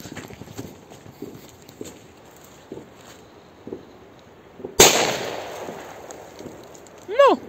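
A single firework shot fired from a launcher at a New Year's Eve fireworks session: one sharp, loud bang bursting out midway, preceded by scattered soft distant pops and followed by a brief rising whistle.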